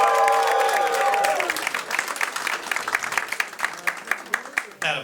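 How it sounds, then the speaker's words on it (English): A comedy club audience claps for a comedian, loud dense applause mixed with a voice and cheering at first, thinning into scattered individual claps that fade out. "That applause is how you know I brought a bunch of people here"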